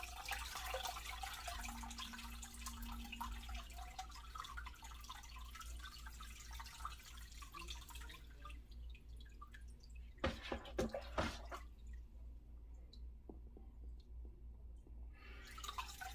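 Water pours steadily into a betta fish tank with a continuous splashing rush, then thins to a few trickles and drips, heard close with no talking.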